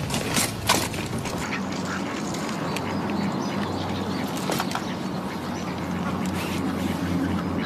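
Ducks at a park pond quack repeatedly in loud, uneven bursts over steady outdoor ambience, several calls close by and others farther off, with no talking.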